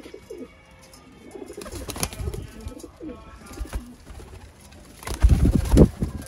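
Sialkoti pigeons, A-class breeder pairs, coo in low rolling phrases, with a louder burst of cooing and fluttering near the end. No one speaks.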